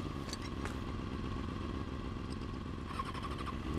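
A motorcycle engine revs in the video game Final Fantasy VII Remake, a steady, loud mid-pitched roar with clattering mechanical texture throughout.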